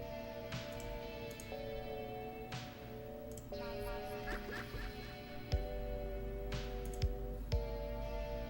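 Pet dog in the Sims 3 video game whimpering and whining in repeated short tonal cries over soft game background music.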